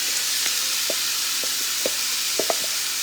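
Jackfruit sizzling in a hot pan for tacos, a steady crackling fry with several light knocks and scrapes from the stirring spoon scattered through it, close and clear.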